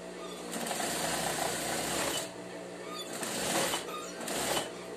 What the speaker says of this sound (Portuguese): passar a costura de novo pra prender um dos lados do cos que caiu fora